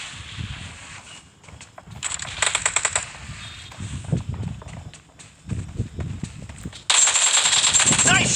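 Rapid bursts of automatic gunfire in the PUBG Mobile battle royale game, loud and close with sharp repeated volleys, a brief lull, then a sustained high-pitched stretch near the end; game voice callouts mix in.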